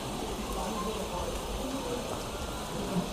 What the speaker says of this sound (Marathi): हे बघा चांगला पाऊस चालू आहे गाईस.